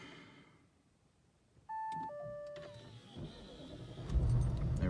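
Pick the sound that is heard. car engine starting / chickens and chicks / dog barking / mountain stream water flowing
car engine starting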